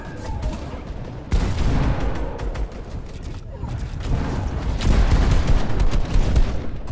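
Rapid bursts of heavy gunfire from a big gun ring out during a Fortnite competitive match, dense loud volleys running almost without pause through the moment.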